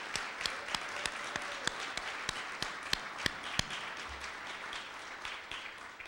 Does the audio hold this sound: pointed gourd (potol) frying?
no